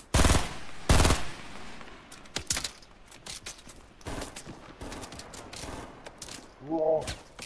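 Video game firefight with loud broadband gunshot bursts, two heavy blasts early followed by scattered rapid volleys and shots of varying distance, with a short tonal mechanical whir near the end.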